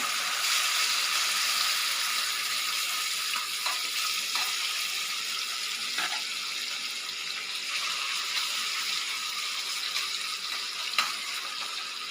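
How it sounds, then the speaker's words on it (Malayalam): Anchovies fry in hot oil in a pan, a constant bright sizzle with occasional faint clicks from stirring. "ഇനി നമുക്ക് കൊഴുവയൊന്ന് ഇതിലിട്ട് വറുത്തെടുക്കണം"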